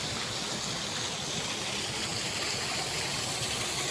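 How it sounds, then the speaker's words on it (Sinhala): Water spilling from a rock ledge down a forested hillside near a forest hermitage in Rammale, a steady, even broadband rush that stays constant throughout with no voices. "උඩ ගලකින් වතුර වැටෙනවා මේ."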